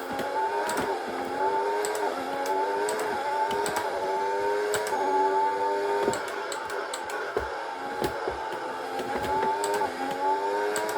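A Formula 1 car engine in the F1 2021 video game, during a MyTeam career mode race, screams steadily and loudly, its pitch climbing and dropping again and again through gear changes, with no talking.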